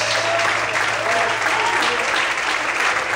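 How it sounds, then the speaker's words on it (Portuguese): Loud, dense applause fills an evening church service as the congregation claps continuously in praise, close and sustained throughout. "Você pode aplaudir e exaltar a Ele nessa noite"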